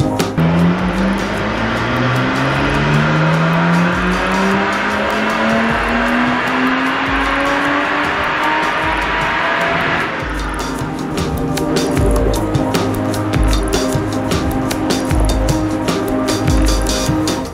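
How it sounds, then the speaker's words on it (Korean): A Lotus Exige V6 Cup car with a mostly stock exhaust and an ECU Master EMU Black tune revs hard on a dyno, its engine note climbing steadily for about ten seconds, then holding a loud, rough drone. "실제 100회 이상 다이노 테스트를 통해 조금씩 출력을 향상시키고 있습니다"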